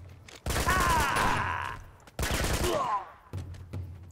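Gunfire in Uncharted 2 comes in three sharp bursts separated by short pauses, loud and close against a quiet in-game background.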